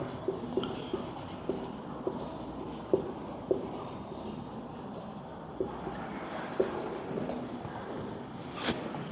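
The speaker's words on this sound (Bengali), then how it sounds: "একটা দাগ দেব।" Marker or chalk strokes on a board during a math lesson, a series of short scratchy taps and swipes spaced through the stretch over a low room hum, with one sharper stroke near the end.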